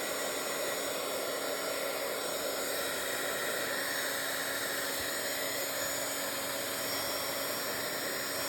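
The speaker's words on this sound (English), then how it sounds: "So let's take our heating tool. We're gonna dry this, especially these big blobs." A heat tool blows steadily and close up, drying wet paint blobs on a Bible journal page; a continuous, even broadband whoosh with a faint hum holds without a break.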